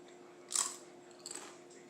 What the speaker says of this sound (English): That's a good crunch.